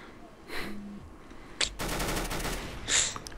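UMP submachine gun fire in Counter-Strike: Global Offensive, a short rapid burst of automatic shots mixed with other game effects and a brief tone, loud and close.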